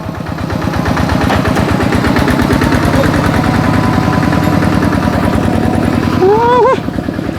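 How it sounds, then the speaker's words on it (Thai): A motor engine runs loud and close the whole time, a dense, steady rumble with little rise or fall, and a brief higher tone near the end. "เร่งเครื่อง"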